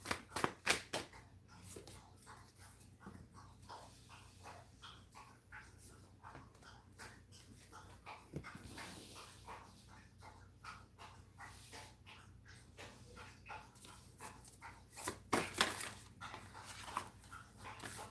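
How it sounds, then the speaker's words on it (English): An excited dog whimpers and gives a few sharp barks in the background of a quiet indoor room, faint overall with louder yelps near the start and again toward the end. "sorry if you guys can hear my dog in the background."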